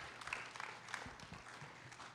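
Quiet, scattered applause from an audience at a speaker series event, with light claps and faint crowd murmur that taper off over a couple of seconds.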